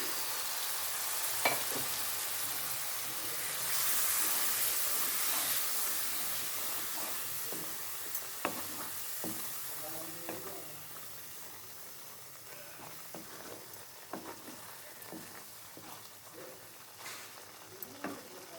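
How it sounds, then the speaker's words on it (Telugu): Masala paste for a stuffed brinjal (gutti vankaya) curry sizzles and fries steadily in a pan, a continuous hissing crackle with occasional stirring taps and pops throughout, no voices. "తర్వాత మనం పేస్ట్ చేసుకున్న మసాలా కూడా వేసేస్తున్నాను."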